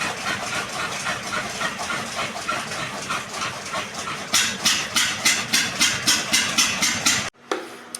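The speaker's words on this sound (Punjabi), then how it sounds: "ਸਾਡਾ ਇੰਜਣ ਭਾਈ ਦੋ ਵਾਰੀ ਖੜ ਗਿਆ ਸੀ ਹੌਲੀ ਹੌਲੀ ਸਟਾਰਟ ਹੋ ਗਿਆ" A farm engine running steadily after a cold start, near and fairly loud, with a rhythmic chugging that grows sharper toward the end before cutting off abruptly.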